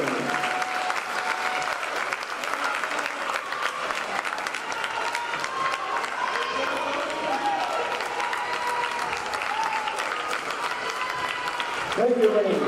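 A crowd applauds at an NCAA women's basketball SCAC championship semifinal, honouring the All-SCAC women's basketball team: sustained, dense clapping from a large indoor audience, even in level, with a brief louder swell near the end.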